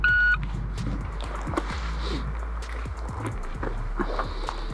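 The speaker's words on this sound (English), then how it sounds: "Test beep." A shot timer gives one sharp, steady electronic test beep at the very start, near and loud, then cuts off into background outdoor noise at a pistol range.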